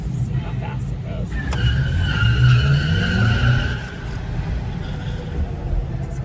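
A Cadillac Optiq electric car accelerates hard from a stop, with a rising whine and road and tire noise building and then easing, heard from inside the cabin with background rumble.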